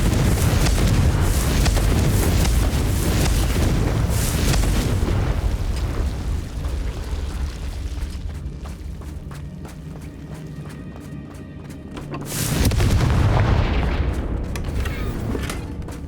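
Confringo fire spell explosions in Hogwarts Legacy on Nintendo Switch, loud booming blasts layered in continuous combat noise, easing into a quieter stretch before another strong burst near the end.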